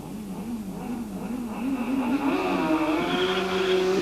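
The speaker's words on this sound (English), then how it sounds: "Squealing the tyre all the way down" A BBS Suzuki funny bike makes a straight drag run at a 1989 power sports festival at Aintree, its engine rising steadily in pitch as it pulls away, loud and continuous with a high tyre squeal running underneath.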